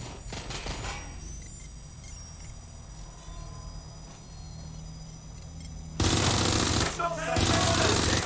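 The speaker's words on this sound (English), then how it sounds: "Taking fire!" Gunfire rattles through a Watch Dogs Legion game scene, a short burst at the start, then a loud dense volley of rapid shots near the end, with game sounds and voices around it.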